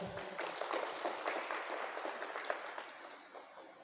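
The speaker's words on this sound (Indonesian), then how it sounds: "Mari kita berikan aplaus yang meriah buat beliau." Audience applause after a religious lecture on building a marriage: a steady, dense wash of many hands clapping, fairly loud at first and gradually thinning and fading toward the end.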